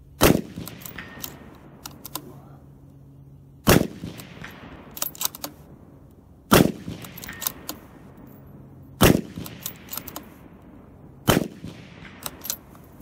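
Five loud, sharp rifle shots from a bolt-action rifle on a bipod, fired at a target a couple hundred yards out, come at roughly three-second intervals, each ringing off with a short echo and bolt clicks between.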